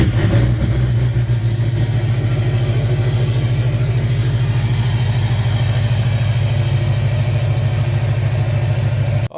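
A Duramax diesel truck engine runs steadily at close range, a loud continuous low rumble with slight revving, stopping abruptly at the end; no one speaks.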